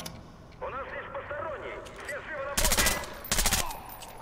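Bursts of continuous automatic gunfire in the stealth shooter game Splinter Cell Blacklist, two loud rapid volleys coming after a stretch of in-game voices and sounds.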